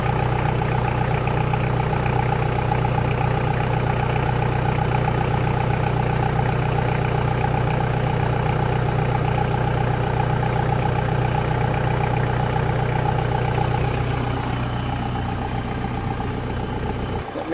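A 2000 Toyota Land Cruiser Colorado VX J95 with a 1KZ-TE diesel engine idles steadily, a smooth, even, loud hum with a low drone that barely changes, easing slightly near the end, with no talking.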